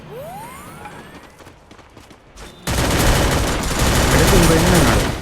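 Sniper rifle fire in a battle royale video game: sharp, loud gunshots crack in quick succession, then a dense, sustained burst of heavy gunfire fills the rest of the moment, with some talk.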